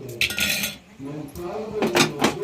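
A metal lid is set onto a cooking pot in a home kitchen with a few sharp clinks and clatters, near and clear, while a voice talks around them.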